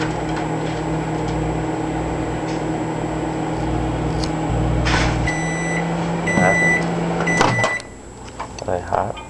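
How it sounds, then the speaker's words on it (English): Microwave oven running with acorns heating inside, a steady hum with a fan drone, a few short beeps near the end, and people talking over it. "We put acorns in the microwave."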